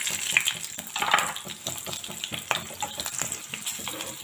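Two green chillies dropped into hot oil for a raw banana chips dish, giving a steady close sizzle and bubbling crackle throughout, with a few louder bursts near the start.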